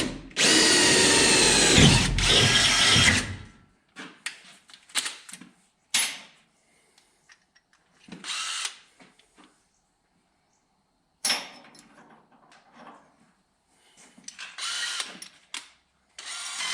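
A power drill whines loudly and steadily, stepping up through progressively larger bits on a 1988 Ford F150, with several shorter drill bursts starting and stopping between quiet gaps and small clatters.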